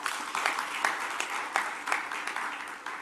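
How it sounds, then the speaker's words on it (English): A forum audience claps for a former Swedish prime minister, a moderate, somewhat distant patter of many hands with a few louder claps standing out, steady for a few seconds. "Let's give a big applause to him."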